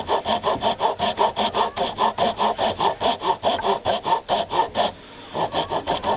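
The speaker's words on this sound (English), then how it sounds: "I might just do it with the rasp." A rasp files a handmade wooden axe handle in quick, even rhythmic strokes, close and scratchy, with a brief pause near the end before the filing resumes.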